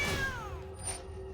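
Cats meow in MTG Arena: a couple of high, sliding meows up front, then quieter mews trailing off over a low background hum, with no talking.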